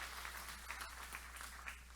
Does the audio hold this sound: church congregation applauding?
yes